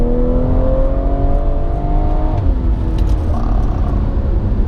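Tuned BMW 340i accelerating hard through the gears, a loud steady engine drone with rising harmonics that drops briefly at a shift near the middle and then climbs again, close and continuous without talk.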